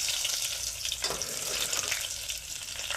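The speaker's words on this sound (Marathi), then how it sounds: "तेल गरम झालं की त्यामध्ये थोडी मोहरी घालून, थोडं मेथीदाणे आणि थोडं जिरं घालून त्याला चांगलं परतून घेतलंय" Mustard seeds, fenugreek seeds and cumin frying in hot oil give a steady, close crackling sizzle that runs unbroken throughout, with no voices.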